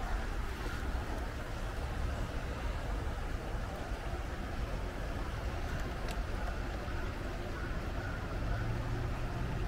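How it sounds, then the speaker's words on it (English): Continuous broad rushing and bubbling noise as an 80-inch DeBoer Seaview RC submarine vents its ballast tank, steady and fairly loud throughout, with no clear voices. "That's a lot of bubbles. Well, it's because I'm venting the tank."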